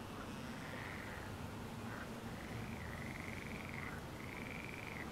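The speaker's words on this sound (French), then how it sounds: "Entend l'espèce de crapaud" Toad croaking as ambient sound in the Simrail train game, a series of drawn-out trilling calls repeating over a steady low background hum, with no voices.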